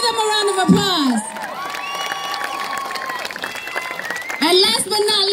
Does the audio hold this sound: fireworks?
no